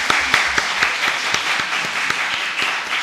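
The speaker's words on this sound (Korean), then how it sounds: "우리 박수로 환영하겠습니다." A church congregation applauds to welcome a family who have stood up, giving a dense, steady round of clapping throughout.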